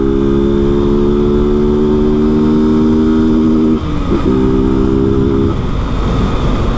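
A Honda Fan 160 motorcycle with a performance camshaft, original exhaust and no air filter runs loud and close, holding a steady engine drone, dipping briefly, then droning again before the tone fades.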